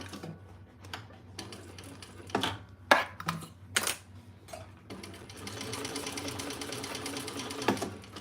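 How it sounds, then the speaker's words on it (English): A sewing machine stitches steadily around the top edge of a sewing project, running continuously through the second half after a few bursts of handling noise and clicks. "Sewing all the way around the top."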